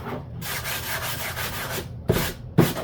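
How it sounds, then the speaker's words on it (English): Close, scratchy strokes of a 220-grit sanding block rubbing across a dried resin edge, a long continuous pass followed by two short sharp scrapes. "you take a little sanding block. This is 220 paper."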